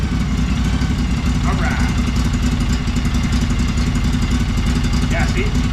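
A long-idle lawnmower engine runs steadily after starting, warming up with a loud, continuous low rumble and rough clatter throughout, while a person speaks briefly over it.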